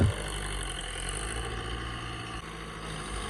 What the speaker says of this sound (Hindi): सामने जो है हमारे ट्रैक्टर वगैरह चल रहे हैं